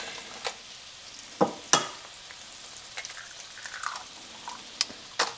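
Eggs cooking in butter in a pan for an omelet-style breakfast, a quiet soft sizzle broken by several sharp spatula taps and scrapes, close and sparse with no talking.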